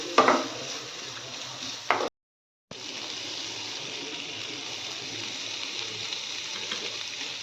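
Garlic and bacon frying in a pan for carbonara pasta, a steady broadband sizzle with a couple of brief clatters near the start, a short dropout, then continuous even frying without talk.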